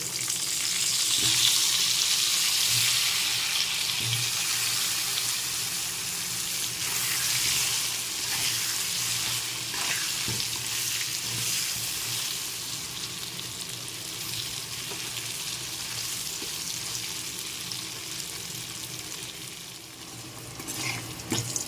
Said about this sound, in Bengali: এখন আলুগুলো ভেজে নিচ্ছি